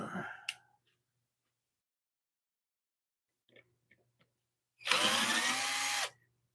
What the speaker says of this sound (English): Let me get my drill here